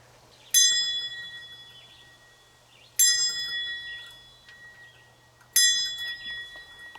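A bright metallic bell struck three times, evenly spaced a couple of seconds apart, each ring sustaining and fading before the next.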